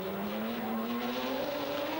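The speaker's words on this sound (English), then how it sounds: "As they're coming out with this car, a lot of power" A GT race car from the 2001 FIA GT Championship qualifying at Magny-Cours drives past, its engine note climbing steadily in pitch as it accelerates, heard at a moderate distance without any voices.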